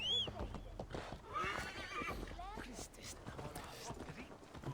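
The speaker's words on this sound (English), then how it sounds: "Let's call our horse." A horse in the Viking-era video game Assassin's Creed Valhalla whinnies loudly, followed by clip-clopping hooves and game ambience, with someone talking throughout.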